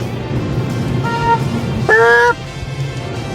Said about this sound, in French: Il était drôle ce klaxon-là, je sais pas pourquoi.